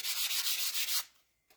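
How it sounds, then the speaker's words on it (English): Light sanding of small wooden pieces with a sanding block: a steady, close run of rhythmic rubbing strokes for about a second, then it stops, followed by a faint brief scrape. "I'm just going to take this sanding block and I'm just going to sand this lightly, these pieces"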